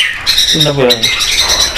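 A Bali starling calls with a rich, rough squawk and a bright whistled note, close and loud, with voices talking around it.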